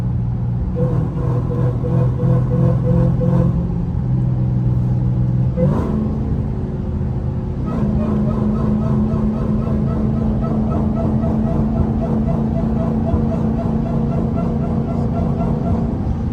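A modified Hellcat-swapped muscle car engine with an aftermarket intake gives a loud, sustained rumble with steady low drone and rising revs, continuous throughout with a brief shift partway through.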